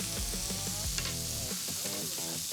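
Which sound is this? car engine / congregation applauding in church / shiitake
shiitake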